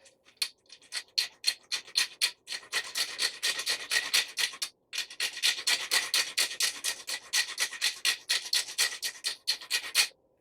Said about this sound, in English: grab yourself a cinnamon stick. And just grate it over the top.